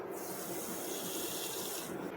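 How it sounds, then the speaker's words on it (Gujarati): Moriyo (barnyard millet) grain being rinsed in a bowl of water, a steady close watery swishing and trickling that holds evenly throughout with no voices. "પાણીની અંદર આપણે મોરિયાને નાખીને પછી ધોઈ નાખીશું।"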